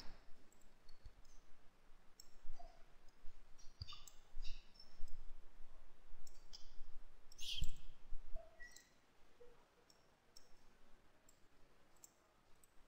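Computer mouse clicking during a PowerShell task on a virtual machine setup: a few sharp, light clicks spaced apart, close and fairly faint against a quiet background.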